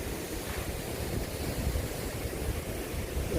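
Strong gusting wind in the aftermath of a typhoon sweeps steadily across open ground near damaged greenhouses, a continuous broadband roar buffeting the microphone with no voices.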